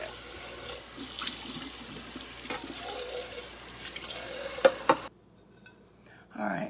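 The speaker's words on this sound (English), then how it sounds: "So I'm gonna rinse this off and clean it up." A rusted tin can is rinsed under a running tap, with a steady splashing, hissing water stream close by, a few sharp clinks near the end before the flow cuts off and briefly resumes.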